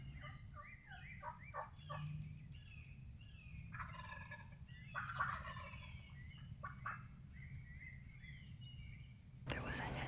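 A wild turkey hen calls nearby outdoors with a run of quick yelps and clucks, fairly faint over low wind and background rumble.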